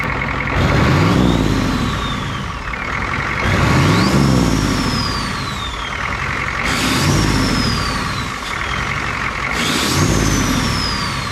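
A Ford F350 truck with twin turbos runs loud and close, its engine note rising and falling in repeated revving swells with whining turbo spool sweeps over each burst.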